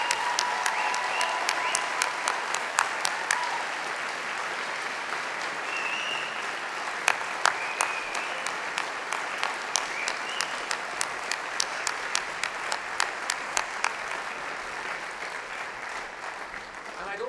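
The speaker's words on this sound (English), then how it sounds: "let's give the family and supporters a massive round of applause" Sustained applause from a large audience at a university degree ceremony in London, steady dense clapping throughout with a few sharper individual claps standing out.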